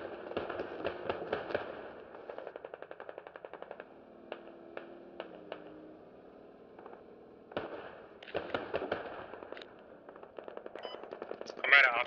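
Bursts of automatic gunfire in the military shooter game Squad, rapid rattling volleys starting and stopping in clusters with pauses between, fairly close, alongside game ambience and a faint tonal hum.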